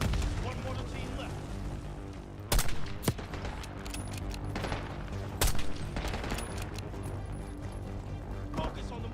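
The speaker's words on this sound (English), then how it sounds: "Got mortar fire." Mortar fire in the video game Call of Duty: Black Ops 6: loud, heavy booming blasts land among a steady rattle of gunfire and explosions, with voices under the din.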